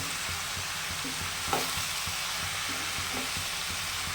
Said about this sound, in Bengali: অল্প হলুদ দিয়ে ভালো করে নেড়ে নেবো